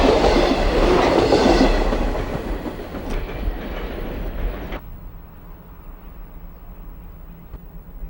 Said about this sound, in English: A MARC commuter train slips through a crossover to the outside rail at Bowie.